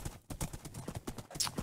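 Horse hooves clip-clop steadily in the video game Wynncraft, a quick, even rhythm of close, crisp hoof beats running throughout as the horse is ridden.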